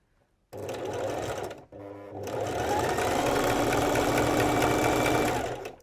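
Sewing machine stitching along the raw edge of two fabric layers, a close, steady mechanical whirring hum that pauses briefly, then runs continuously for several seconds.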